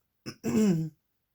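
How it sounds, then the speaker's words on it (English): A single throat clearing, close and brief: a short catch followed by a longer gravelly rasp, then quiet. "I was trying to clear my throat"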